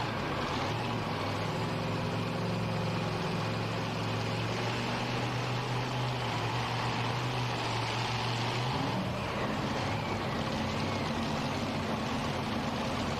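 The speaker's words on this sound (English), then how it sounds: "We hear the multi-engine modifieds firing up in the background." Multi-engine modified pulling tractors fire up at a tractor pull in Hillsboro, Wisconsin, a steady low engine drone and idle rumble building in the background, with a shift in pitch near the end and no talk.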